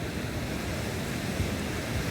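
Sea waves wash steadily at the shore as a broad, continuous roar with wind noise on the microphone, fairly loud and unbroken, with no talking.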